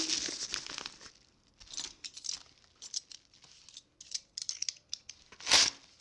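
Plastic wrapping on a newly received book package crinkles and tears in short bursts, with a loud sharp rip near the end, close up and with no talking.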